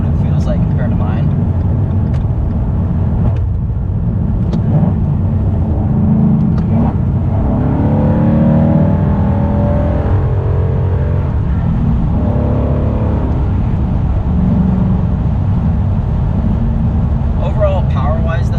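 2017 Ford Mustang GT with the Coyote V8 pulling hard from inside the cabin, a loud steady low engine roar that builds through the run, with someone talking over it at times.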